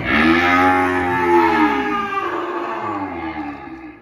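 Several young cattle, around six months old and penned for sale on a Vietnamese farm, give long, loud, close moos that overlap in drawn-out low calls.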